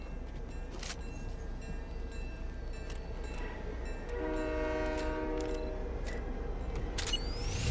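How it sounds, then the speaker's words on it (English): A train rolls past in the Fortnite video game with a steady low rumble, and a sustained horn-like tone rises midway and holds to the end, with no talking. "Waiting on the train, little buddy?"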